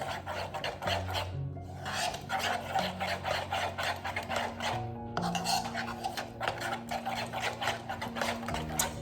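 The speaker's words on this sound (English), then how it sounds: "And then start stirring." A spoon scrapes and rasps around a bowl as oats and chia seeds are stirred into oat milk, a steady close rubbing rhythm running continuously with brief pauses.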